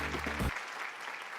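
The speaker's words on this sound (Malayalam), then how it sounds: "കയ്യടി" Studio audience applauding on a Malayalam TV game show, a sustained wash of clapping that follows a brief low voice at the very start and carries on steadily at moderate loudness.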